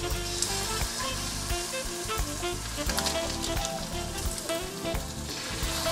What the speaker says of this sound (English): Nice and sizzling, that's what I wanted.